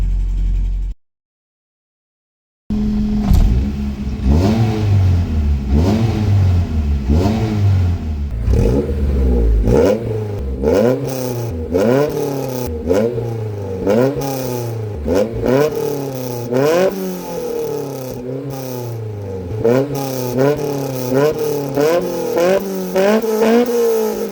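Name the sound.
car engine revving while warming up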